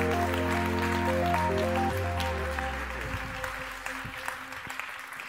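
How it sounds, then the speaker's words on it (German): Applause from the audience at the Deep Tech Award 2022 ceremony as the winner is announced, a steady crowd clapping that fades gradually under a low musical sting. "Der Applaus."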